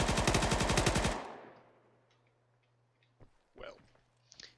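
A rapid, loud burst of automatic 7.62 gunfire aimed at an ATV in Arma 3 lasts about a second and then cuts off. A steady hum and a few faint clicks and thumps follow.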